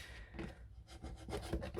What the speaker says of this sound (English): bit of tape just to cut off with the trusty ruler